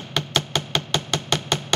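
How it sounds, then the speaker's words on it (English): Steady hammer strikes on a metal stamp against jewelry metal, about ten sharp, ringing metallic taps in an even rhythm, close and clear with no talk. "like hammer it with the metal stamp"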